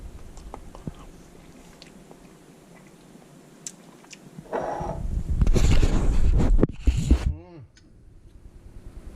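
Chili with meat, jarred five years ago and fiery hot, chewed close to the mic: wet munching grows loud in the middle and then trails off, with a quiet voice now and then.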